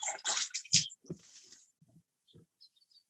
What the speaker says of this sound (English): rinse some of this stuff out